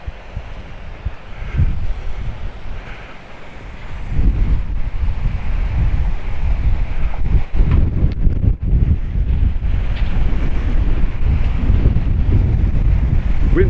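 Wind gusts outdoors during a walking tour of Paphos Bar Street in Cyprus. Its low, rumbling buffeting hits the microphone steadily and grows louder after the first few seconds, with no talking over it.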